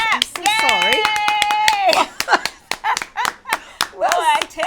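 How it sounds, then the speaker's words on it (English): An audience claps in short scattered bursts and irregular claps while a voice speaks loudly over it, with a bit of laughter mixed in. "Clap."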